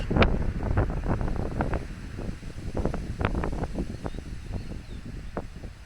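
Low, buffeting wind rumble batters the microphone steadily throughout, with a few brief thumps and scuffs scattered across it.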